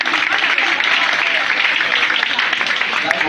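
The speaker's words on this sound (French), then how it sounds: "est-ce qu'on va applaudir pour lui?" Steady, loud audience applause fills the whole stretch without a break, the dense clapping of a crowd at a health-product testimonial gathering cheering for a leader.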